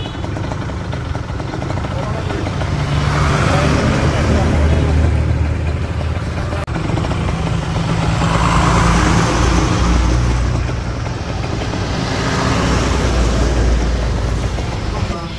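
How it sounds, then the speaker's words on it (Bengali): Busy village road traffic near Mirzapur, with motor vehicles rumbling and idling close by in a continuous loud drone, engines swelling as they pass, and people talking over it. "রাস্তায় বিশাল পরিমাণ যানবাহন যাবে"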